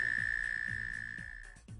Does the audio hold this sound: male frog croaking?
yes